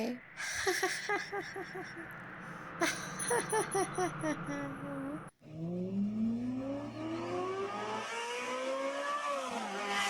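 A car speeds up on a dark, winding highway, its engine whine climbing steadily in pitch after an abrupt cut. The first half holds busy tonal sounds, and the revving rises alone toward the end.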